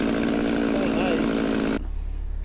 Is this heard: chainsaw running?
yes